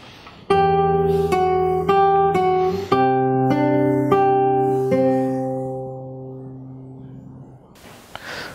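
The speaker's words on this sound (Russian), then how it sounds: "Прижимаем третий лад на первой струне и играем вместе с шестой открытой струной" Fingerstyle guitar opens a piece with a handful of plucked notes over ringing bass, then a last chord left to fade out slowly; faint breathy noise follows at the end, close and otherwise unaccompanied.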